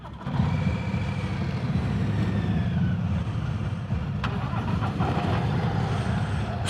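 Harley-Davidson Road Glide ST CVO motorcycle engine starting and settling into a deep, steady rumbling idle, close and continuous throughout.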